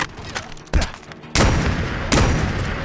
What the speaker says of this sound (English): Oh no, he's shooting me.